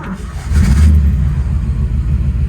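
A Mustang Shelby GT350R engine revs hard toward about 6,000 RPM, a loud, deep, steady roar with a low throbbing rumble that holds for the whole stretch, with no talking.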